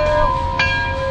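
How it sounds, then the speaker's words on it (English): A single bell strikes once and rings with a clear sustained tone that decays over about a second, heard within a car dealership advert for a 2018 GMC Sierra 1500. "Somebody ring the bell!"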